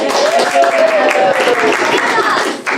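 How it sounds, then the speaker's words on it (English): Audience applause at a live panel comedy show, a loud, dense burst of clapping from a crowd that carries on throughout and tapers slightly near the end, with voices mixed in. "Big applause from Leah, saving the day"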